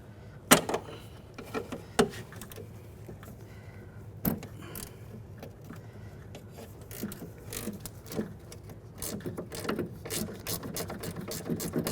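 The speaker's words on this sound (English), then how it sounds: "This one I'm just going to use a 10mm ratchet wrench." A 10mm ratchet wrench loosens a bolt while a front window regulator is removed from a 2006-2010 BMW 550i, giving repeated close clicking ratchet bursts with scattered metallic clanks and no talking.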